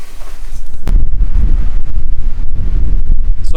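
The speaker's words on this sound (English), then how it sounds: "I'm sure you can tell it's really windy" Strong wind roars across the microphone while riding a Harley-Davidson Heritage Softail motorcycle on Skyline Drive, a loud, continuous low buffeting rumble that never lets up, with one brief sharp knock near the start.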